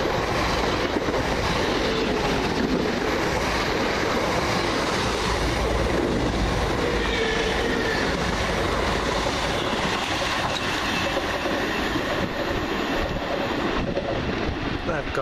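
Brighton to London Victoria train passing at Preston Park, a loud continuous rumble and rush of wheels on track close by, with rhythmic clatter throughout.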